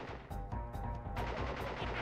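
Enemy gunfire in a Crash Bandicoot video game, a rapid run of repeated sharp shots in bursts over about two seconds, loud and close with no voices.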